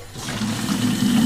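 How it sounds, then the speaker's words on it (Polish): Water running steadily from a small outdoor tap, a close, continuous rushing splash with no voices. "Tu mamy taki kranik"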